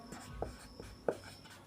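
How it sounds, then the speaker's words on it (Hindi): Chalk or marker writing on a classroom board during a lesson: faint scattered taps and short scratchy strokes, two sharper knocks standing out, quiet and close with no talking. "लिखता हूँ ओणम"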